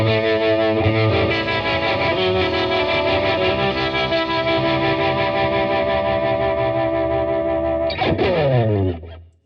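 Distorted electric guitar through a Fender Champion 100XL amp using the Vibratone effect, a sustained chord with a pulsing, rotating-speaker wobble, then a final strum that rings and fades.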